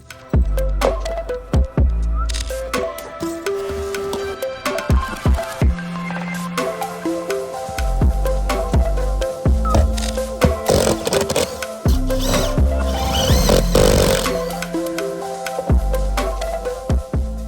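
Repeated bursts of power drill whirring through a camper mount jig, starting and stopping in uneven stretches, loud and close, with a motor hum rising and falling.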